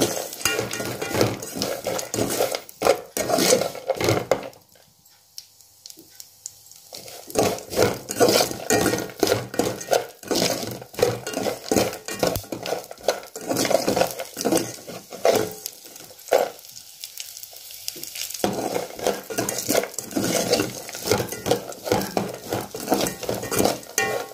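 Cardamom pods are pounded into powder in a home kitchen while sheer khurma, a vermicelli payasam, is being made. Sharp, rhythmic strikes repeat quickly and close by, with two brief pauses between bursts and no talking.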